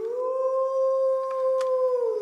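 A Power Rangers Wild Force morpher toy plays a single electronic wolf howl, a sustained tone rising slightly and falling at the end, loud and close with no voices.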